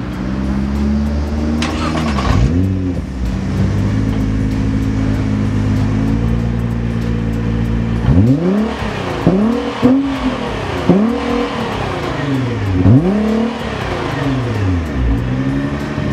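2012 Nissan GT-R accelerating hard, the engine droning steadily then revving through several rapid gear changes with rising and falling sweeps, loud and close.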